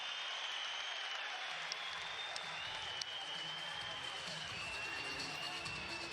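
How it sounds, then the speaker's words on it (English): Dense crowd cheers and applauds at an ACB 48 MMA fight, a sustained wash of clapping and shouting in a large arena, with a commentator talking over it. "And the crowd on their feet."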